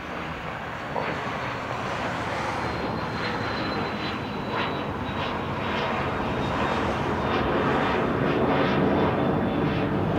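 A fixed-wing airliner's engines roar steadily during a takeoff roll at Dublin Airport, a loud, broad rumble that holds and slowly swells across the whole stretch, heard from a nearby spotting position without talk.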